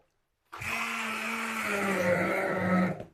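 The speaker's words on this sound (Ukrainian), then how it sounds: "І це нам потрібно зблендерувати." A blender purees smoked soup, starting abruptly after a moment of silence and whirring steadily at a close, constant pitch for a few seconds before cutting off.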